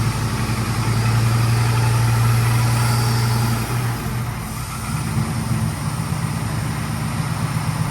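A 1934 Ford fitted with a 6.2L LS four-valve overhead cam engine idles with a deep, steady rumble, loud and close, dipping briefly midway before settling back, no voices.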